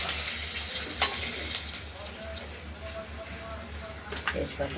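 Steady hiss of koi fish frying in a pan with occasional pops and crackles, a low hum underneath, close by.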